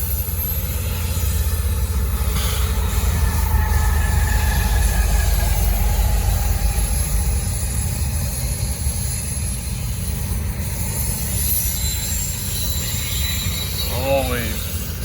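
Norfolk Southern freight train rolling past on the Charlotte District, a steady loud rumble of cars and wheels throughout, with brief wheel squeal and a rising whine near the end, no talk.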